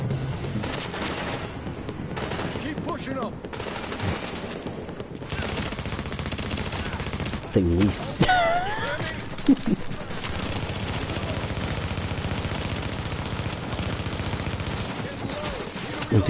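Automatic gunfire from The Division shooter game, bursts of shots running through a busy, dense game soundscape with a few louder peaks, while a voice talks over it.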